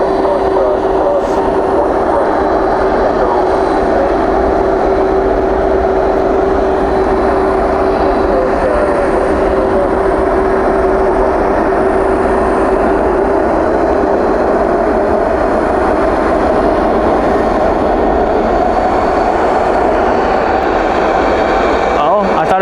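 At night at DFW, a landing airliner with spoilers up and thrust reversers out makes a loud, steady roar with a sustained tone that fills the whole stretch without letup.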